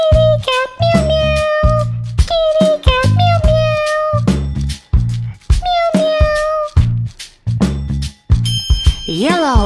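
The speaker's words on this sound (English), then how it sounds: "Kitty cat, meow meow." A cartoon kitty cat meows in a bright, sing-song voice, several short meows spaced between lively animated speech and music, close and loud throughout.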